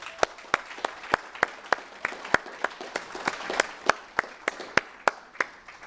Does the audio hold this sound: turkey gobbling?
no